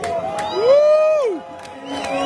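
Mammoth rally crowd in Kogi West Senatorial District cheering loudly, with a long rising-and-falling whistle or whoop soaring above the roar before the noise settles back into steady crowd sound.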